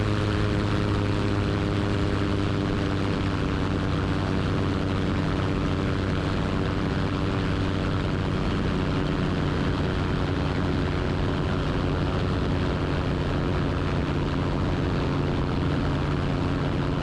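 Super Petrel amphibious airplane engine with turbo on Lake Moomaw, a steady loud propeller drone throttled back as the boat-hull plane comes up on step, continuous with no talk.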